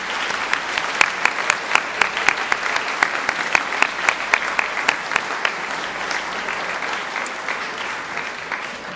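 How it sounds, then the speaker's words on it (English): A crowd at a high school senior awards night applauds the graduating seniors with steady, sustained clapping for the full stretch, many hands in a dense wash with sharper individual claps standing out on top. "can we give everyone a round of applause for all of our seniors tonight?"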